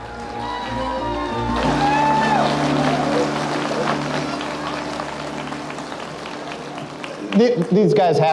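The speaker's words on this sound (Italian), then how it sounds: "Questi signori devono applaudire, li pago io." Audience applause fills the hall at the LinuxWorld Conference: a steady, dense wash of clapping that swells and holds for several seconds over music, then gives way to a louder burst at the end.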